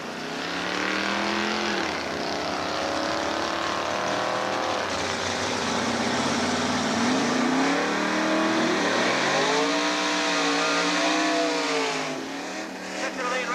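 A Ford Mustang and a Chevrolet Malibu launch side by side in a drag race, engines roaring and rising in pitch through repeated gear changes, loud at first and then receding, with an announcer's voice faintly under the noise.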